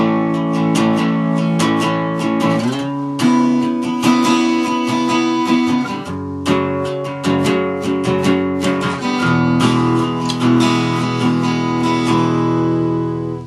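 Guitar strummed in steady even beats, four beats on each chord before changing, ringing and full with no talking.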